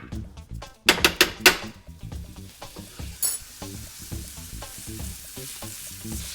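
Butter sizzles in a hot pan ahead of cooking lobster, a crackling fry broken by sharp clinks of a utensil against metal and a few scraping stirs, close and fairly loud.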